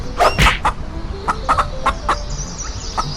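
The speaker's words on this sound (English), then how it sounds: "and caught a wild chicken" Chickens clucking in short, uneven bursts close by, with a few sharper squawks and faint chirps among them.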